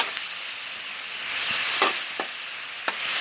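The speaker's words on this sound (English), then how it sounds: "We got these zucchinis over here cooking with these onions." Zucchini and onions fry on a Blackstone griddle with a steady close hiss, broken by a few faint scrapes and taps from a spatula.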